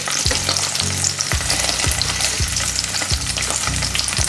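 Breakfast sausages fry in a pan on setting 4 as they are turned onto their sides: a loud, steady sizzle with a run of regular scraping turns, no voices.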